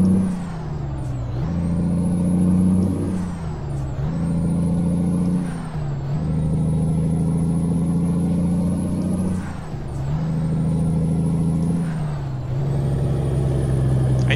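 A Freightliner Classic XL truck in American Truck Simulator, its engine droning loudly and steadily and climbing in pitch through repeated gear changes, each followed by a brief dip and a fresh rise.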